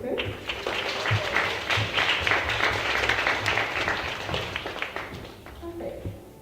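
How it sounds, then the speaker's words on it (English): An audience at a design event breaks into applause, a dense wash of clapping that builds and then tapers off over several seconds, heard from the room. "Shall we give a round of applause for the speaker?"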